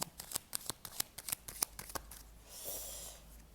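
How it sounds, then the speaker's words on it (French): Tarot cards handled and turned over on a table during a reading: a quick run of crisp, close slaps and flicks, then a softer sliding shuffle of card stock toward the end. "Alors, on va recouvrir certaines cartes."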